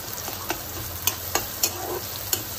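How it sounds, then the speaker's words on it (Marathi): Chopped onion sautés for vegetable upma in a steady quiet sizzle, with a spoon tapping and stirring in several distinct clicks. "आता कांदा हा चिरलेला टाकून कांदा चांगला परतून घ्यायचा आहे"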